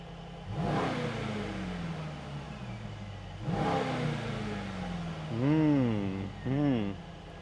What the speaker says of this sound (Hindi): हाँ रेस मोड वाला पावरफुल साउंड